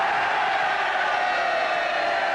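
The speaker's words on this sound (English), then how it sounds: "you can hear that great cheer going up from the opposition" Opposition MPs in the House of Commons cheering after a government defeat on a vote over VAT on fuel, a sustained dense roar of many voices, loud and even throughout.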